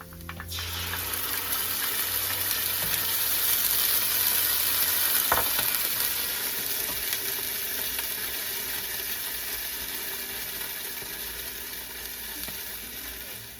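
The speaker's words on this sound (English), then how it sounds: "the onions are brown, and I'm going to go ahead and add the garlic and ginger paste" Garlic ginger paste fries with browned onions in a steady, close sizzle that runs for many seconds, with faint stirring and no talk.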